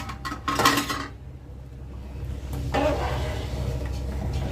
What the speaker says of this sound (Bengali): হাঁড়ির ঢাকনা খুললাম।